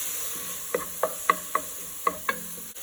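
Garlic and onions cook in a pan as a utensil stirs them, making a series of six distinct scraping taps at uneven intervals over a soft, quiet sizzle.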